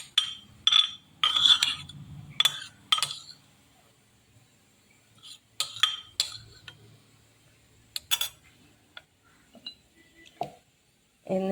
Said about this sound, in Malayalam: ഈ ക്യാരറ്റ് മുഴുവനായിട്ട് നമുക്ക് ഇതിലേക്ക് മിക്സ് ചെയ്യാം